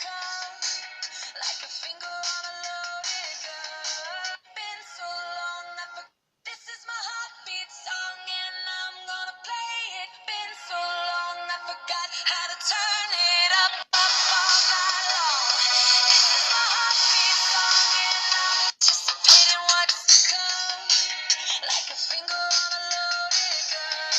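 Music plays through the small built-in loudspeaker of a Doogee Titans 2 DG700 waterproof 4.5-inch phone. The sound is thin and tinny, with no bass, and carries on steadily for about 24 seconds. It grows denser and louder in the second half.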